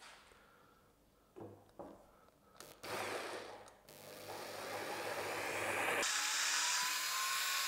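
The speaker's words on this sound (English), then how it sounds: "I've got my drill, and I've got the drill bit on the end." A few clicks and handling knocks, then a power drill whirs steadily into soft terracotta, its pitch rising as it bores in, then running at a high, even whine.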